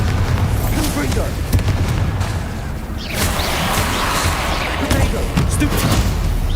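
Bombarda and Confringo spells in the Hogwarts Legacy video game go off as a dense run of booming explosions and crackling blasts, loud and close, with a voice shouting over them.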